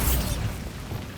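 The Bombarda blasting spell in Hogwarts Legacy goes off with a short punchy burst at the start, then a rumbling tail that fades under faint mechanical rattling.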